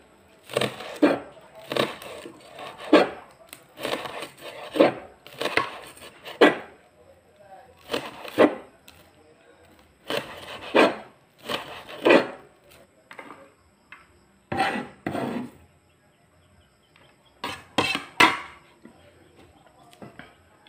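Eggplant being chopped with a knife on a wooden board for adobong talong, a series of sharp, close knocks in uneven bursts with short pauses between groups of cuts.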